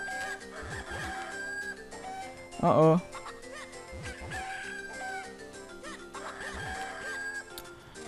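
Chickens in the video game Zelda: The Minish Cap cluck in short repeated bursts over looping game music, with a brief louder squawk midway and a player's quick exclamation.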